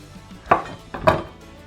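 Two crisp knife cuts trim the top and bottom off a peeled, cored pear on a cutting board, a pair of sharp close knocks about half a second apart over a quiet room.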